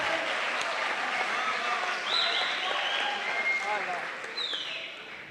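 An audience at a mushaira, an Urdu poetry gathering at Gujranwala Medical College, breaks into sustained applause, a dense wash of clapping that swells and then gradually fades, with a voice speaking over it.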